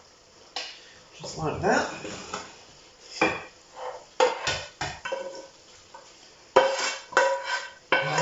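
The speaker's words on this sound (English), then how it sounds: "I'm going to put it into a nice serving dish." Puttanesca pasta being scooped from a pan into a serving dish: utensil scrapes and clinks against cookware in bursts, close and moderately loud, with a few words of talk in between.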